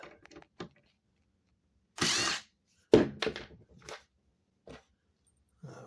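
A power drill drives screws into wood in a few short, separate bursts, with quiet gaps between them and brief scraping and handling noises.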